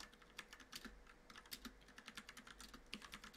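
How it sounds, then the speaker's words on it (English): Steady typing on a computer keyboard while coding, a quiet run of close, rapid clicking keystrokes with brief pauses and no talking. "So I'm just going to start typing."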